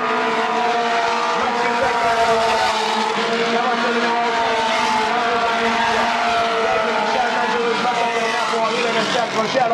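Race cars roaring around a track, a continuous loud engine drone with shifting pitch lasting throughout, under steady commentary.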